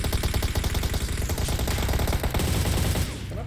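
Rapid automatic gunfire in PUBG Mobile, a loud continuous stream of close shots rattling for about three seconds before trailing off, with little talk over it.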